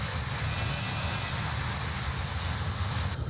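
BAE146 jet airliner engines hum steadily in flight in Microsoft Flight Simulator 2020. The whine is constant and even, with a broad rushing roar beneath it and no speech.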